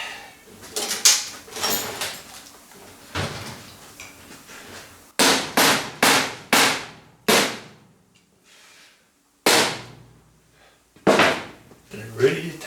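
Hammer blows while mounting an extension lead on a workshop fabrication station, a series of sharp loud knocks in bursts of three to five, separated by brief pauses, with some talk early on.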